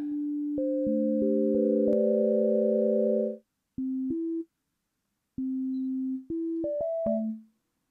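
Clean FM synthesizer tones from a Sonicware Liven Mega Synthesis play a short sequence of sustained notes, each ending in a smooth fading release tail before silence.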